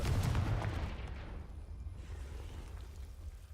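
A Confringo spell explodes in Hogwarts Legacy, a single deep fiery blast with a boom that fades into a rumbling tail.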